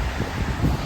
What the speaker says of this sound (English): You can feel the wind.